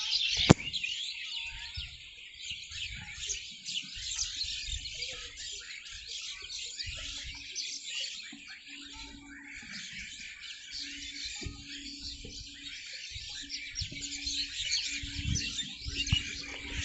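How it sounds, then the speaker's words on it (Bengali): Many birds chirp and twitter steadily around a riverside resort, a dense chorus of high calls that carries on throughout with a low background rumble underneath. "chirping of birds,"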